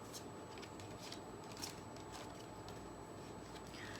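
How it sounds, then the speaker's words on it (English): Tarot cards being pulled and shuffled from a deck, a faint continuous papery riffling and light card slaps close by for a few seconds, no voices. "So I'm pulling 3 cards about that."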